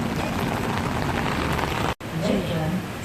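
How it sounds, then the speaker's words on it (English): Heavy rain on a wet, stormy day during a thunderstorm, a dense steady hiss of falling water that fills the clip, broken by one brief dropout, with faint voices under it. "It's a very wet and rainy day, thunderstorm."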